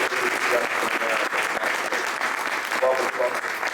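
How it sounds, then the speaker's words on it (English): An audience at a SAFE Justice Act briefing applauds steadily, dense close clapping filling the room throughout with some crowd murmur mixed in. "Give her a round of applause."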